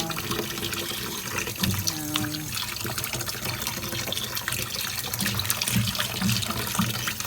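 Beans and sweet potatoes are rinsed under a running kitchen tap, with continuous splashing water and soft knocks of the vegetables being handled nearby.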